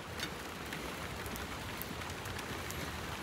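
Light drizzle falls outdoors in a wooded patch at Disney's All-Star Sports Resort, a faint, even patter of fine drops with no breaks and no voices.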